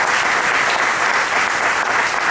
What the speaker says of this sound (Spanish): Y un aplauso al Señor que te va a suplir esa necesidad.